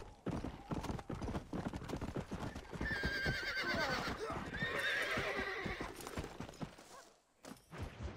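Horse hooves clip-clop at a steady riding rhythm in the Red Dead Redemption video game on Xbox 360, with a horse whinnying partway through, fairly close and continuous.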